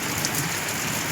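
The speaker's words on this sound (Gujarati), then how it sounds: "જો વરસાદ અટાણે ચાલુ થઈ ગયો." Rain falling steadily during a monsoon downpour, an even close hiss of drops on surfaces that continues without a break, with no voices.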